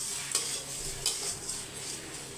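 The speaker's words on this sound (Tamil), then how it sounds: "சாம்பாருக்கு காய் வதக்கி விட்டுருக்கோம்" Vegetables for sambar are sautéed in a pan, giving a soft, steady sizzle close by, broken by a few brisk stirring scrapes of a spoon against the pan, with no talking.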